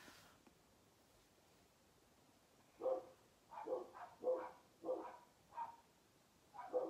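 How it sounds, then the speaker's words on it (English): Dogs bark repeatedly at a distance, about seven muffled barks in an uneven rhythm after a quiet start, faint as if heard from indoors. "I am so sorry about the dogs barking outside."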